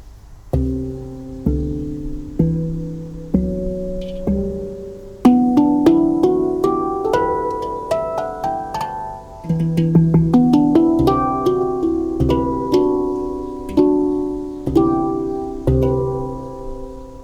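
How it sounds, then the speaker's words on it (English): Resonant notes struck one after another on a 14-tongue RAV Anima tongue drum, ringing and overlapping into soft chords, with a gentle melodic rhythm and no talking. "let's check how handpan sounds"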